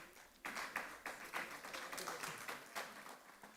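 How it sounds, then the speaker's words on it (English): Conference attendees at an OGTAN event give a speaker a quiet round of applause, uneven bursts of clapping heard from a distance, faint and thin. "A round of applause for him."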